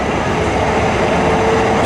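Continuous loud rumble and rattle of a train rolling past close by, with a faint wheel squeal over the clatter.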